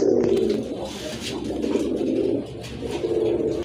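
Sky-blue Rajgolla pigeons coo close by in a continuous, throaty, rolling series that carries on with only brief dips across the whole stretch.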